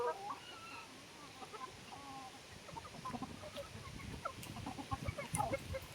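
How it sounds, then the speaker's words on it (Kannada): Native country chickens on a farm, some running in the breeze: faint, scattered clucks and short calls at a distance over a windy outdoor rumble, with a few closer clucks near the end. "ನಮ್ಮ ಕೋಳಿ"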